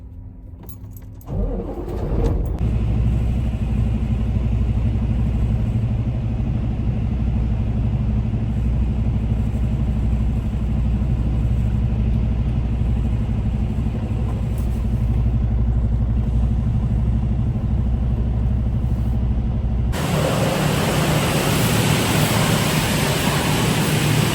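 A truck's diesel engine idles steadily while waiting in line at a truck wash, a constant low rumble close by, with a brief clatter at the start and a shift in tone near the end.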